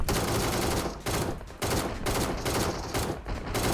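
Rapid bursts of gunfire in a shooter video game, loud repeated volleys broken by short pauses in a steady rhythm, heard without talk.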